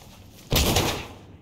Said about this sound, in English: Busting down the door.